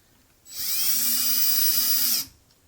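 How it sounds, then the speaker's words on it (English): Cordless drill driving a screw through a D-ring into a picture frame, a single steady high-pitched whine lasting under two seconds, starting and stopping abruptly in a quiet room. "take a screw and a drill here"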